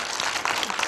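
An audience at a film screening Q&A gives a brief burst of applause, a dense, even patter of many hands lasting under a second.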